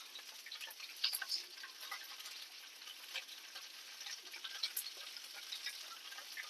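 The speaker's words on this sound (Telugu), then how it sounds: "బాగా రోస్ట్గా వేపుకోకూడదు సమానంగా వేపుకోవాలి" Ingredients for an ivy gourd chutney fry gently in a pan, a faint, steady crackle and hiss with scattered light ticks of spluttering, heard alone and fairly quiet.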